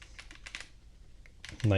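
Mechanical key clicks from a OnePlus Keyboard 81 Pro tap out in a quick, soft run of keystrokes, then a voice cuts in at the end.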